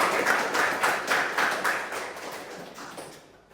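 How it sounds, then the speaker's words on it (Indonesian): Audience applause at an academic presentation, a brief burst of scattered hand clapping at moderate distance that fades out over a few seconds. "Beri aplaus dulu."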